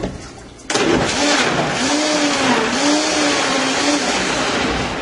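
A blender switches on abruptly and churns paper and water into pulp, its loud, steady motor roar carrying a wavering whine as the load shifts, with no talking.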